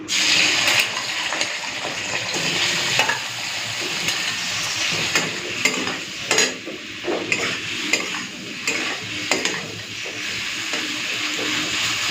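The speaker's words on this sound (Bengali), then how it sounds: "ওই তেলের মধ্যেই চিংড়ি মাছটা ভেজে নিচ্ছি।" Prawns frying in oil in a pan, a close, loud hissing sizzle with bursts of spattering and occasional scrapes of stirring throughout.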